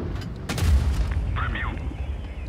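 A tank cannon shot from an IS-5 heavy tank in the online game World of Tanks Blitz, a loud booming blast that rolls into a low rumble over steady battle background noise.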